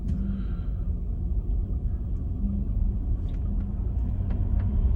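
Car driving, a steady low road rumble and engine drone heard from inside the vehicle, continuous and even throughout.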